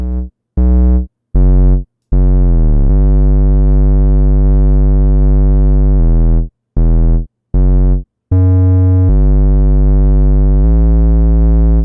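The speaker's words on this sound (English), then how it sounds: "I did also just add one more effect, which was a bit of tube distortion." Deep 808 bass notes made in Serum with tube distortion play in a rhythmic future bass pattern, some short and punchy, others long and sliding, with gritty upper harmonics.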